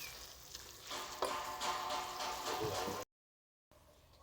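Puak mushrooms stir-fried with pork belly sizzle and hiss steadily in a hot pan, with stirring scrapes and clatter throughout, then a brief silence before quieter frying resumes.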